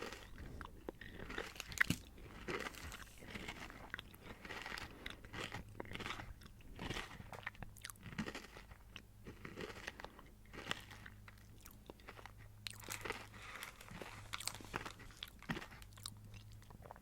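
Kohakutou crystal candies, with a blueberry one among them, crunched close to the microphone in repeated crisp bites and steady chewing, quiet and intimate with no talking.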